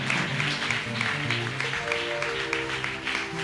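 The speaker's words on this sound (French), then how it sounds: "Et acclamez pour vous-même." Applause from an audience at a church gathering, a steady dense clapping texture held throughout, with musical tones from instruments sustained underneath.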